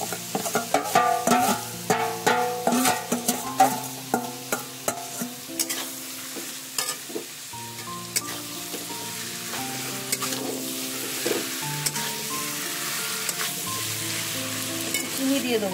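Marinated meat frying with browned onions in a pan sizzles steadily while a spoon scrapes and stirs in rhythmic strokes, close up, over a soft tonal melody in the background.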